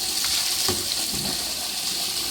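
Water splashing and running while a German Shepherd dog is bathed, a steady wet hiss with a few soft splashes close by, no speech.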